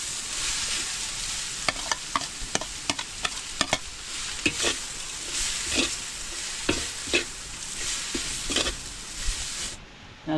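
Papaya sautéing with soy sauce in a hot pan for escabeche, a steady sizzle broken by repeated sharp clicks and scrapes of a spatula stirring, close up with no talking.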